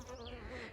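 Bees buzz around flowering verbena on an allotment garden, a brief steady close-up drone with a wavering pitch and no voices.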